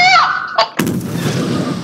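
Gunshots ring out in a Garry's Mod roleplay match, a sharp loud blast followed by a rumbling tail, just after a shouting voice.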